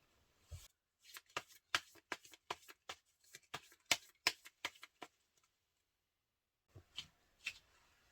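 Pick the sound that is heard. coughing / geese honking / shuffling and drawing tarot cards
shuffling and drawing tarot cards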